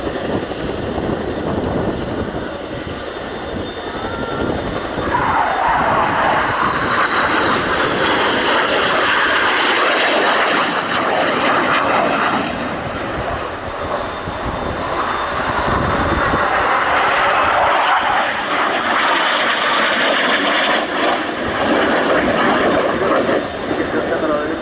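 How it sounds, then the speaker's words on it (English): Fast, low display jets at an airshow, closing toward each other at around 380 mph, make a loud, sustained roaring engine rush that swells and shifts in pitch across the whole span while a commentator talks over it. "Each aircraft doing around 380 miles an hour as they fly towards each other."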